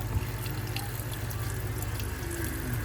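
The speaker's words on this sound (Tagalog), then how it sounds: "Lagyan mo na naman ng tubig." Water pouring into a cooking pot while making milkfish paksiw, a continuous splashing, trickling stream heard close up over a steady background hiss.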